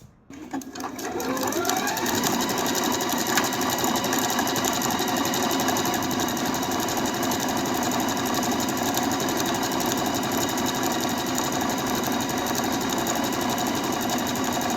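A sewing machine stitches a blouse, starting after a brief pause and then whirring fast and loud without a break, a steady mechanical drone that runs to the end.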